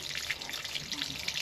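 Water runs and splashes steadily into a tank on a cattle farm, a continuous hissing gush, fairly quiet.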